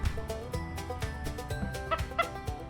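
Chickens cluck on a Tennessee homestead, a rooster among them, in repeated short calls close by over a busy outdoor background, with a few louder clucks near the end.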